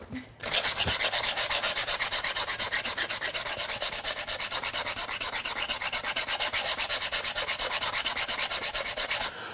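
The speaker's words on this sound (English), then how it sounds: "Went out of my way to buy a oscillating spindle sander machine" An oscillating spindle sander grinds against a workpiece in a loud, continuous abrasive rasp with a fast rhythmic pulse from the spindle's up-and-down stroke, starting after a brief quiet moment.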